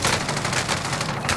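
Burst gun firing in Call of Duty Warzone, rapid repeated shots in quick bursts, loud and continuous across the moment.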